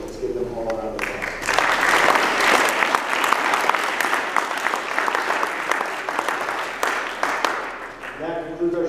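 An audience at a school board meeting claps steadily for student coaches after a showcase, dense applause building after a brief voice at the start and fading as a speaker returns near the end.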